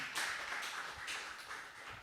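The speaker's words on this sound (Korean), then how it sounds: "뜨겁게 우리 하나님께 감사의 박수를 치시 바랍니다." A church congregation at a Sunday worship service claps together in thanks to God. The applause is faint and distant, a sustained patter of many hands with slight swells, and no voices stand out above it.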